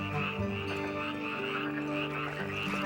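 A chorus of male tree frogs croaking hard with vocal sacs fully puffed out, many overlapping calls forming a thick, unbroken wall of sound, loud and near throughout.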